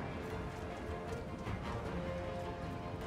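Horse hooves clip-clop in a Total War: Three Kingdoms–style strategy game, a steady rapid patter of hoofbeats mixed with battle ambience, moderately loud throughout.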